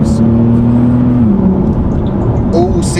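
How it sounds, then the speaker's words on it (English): Bentley Supersport engine, 620 horsepower, revving hard under acceleration with a steady rising harmonic drone that drops as it shifts, then pulls again, loud and close inside the car. "As you can hear, it is a beast of an engine."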